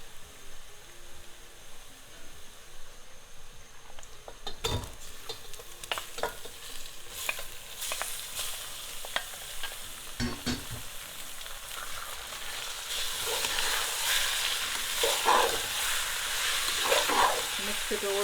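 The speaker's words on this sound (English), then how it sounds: "After a minute of frying the ginger garlic, now we add the turkey into it." Steady frying sizzle of turkey with ginger and garlic in a pan, with occasional stirring clatter, growing louder and hissier toward the end; no talking.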